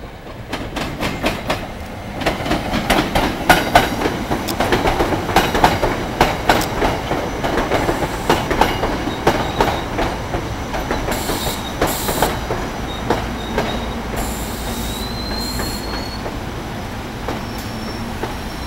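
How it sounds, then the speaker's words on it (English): A five-car SEPTA passenger train rolls past at Paoli station on a busy Thanksgiving travel day, a loud, steady rumble with rhythmic wheel clicks over the rail joints and brief high squeals near the end, with no talk. "This would normally be my train, except it would only have 3 cars instead of 5."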